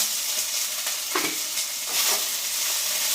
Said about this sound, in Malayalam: സവാള അരിഞ്ഞിട്ട് കൊടുക്കുകയാണ്